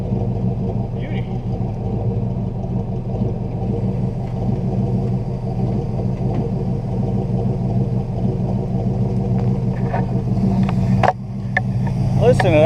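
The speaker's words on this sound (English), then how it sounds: "Listen to that thing idle," A 1968 Buick Skylark engine idles steadily with a low, even rumble that holds close and constant throughout, with a brief dip and a few light clicks near the end.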